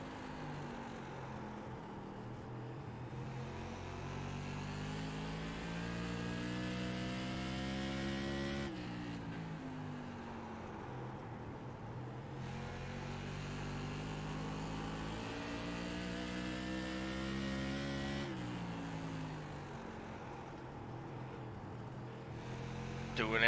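Modified race cars lap a track, engines revving and rising in pitch as they accelerate, then dropping off before the next surge, loud and sustained across repeated passes.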